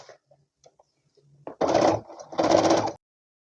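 Sewing machine stitching the neckline seam of a garment, with two short bursts of rapid motor-driven stitching after a few faint clicks, close and distinct.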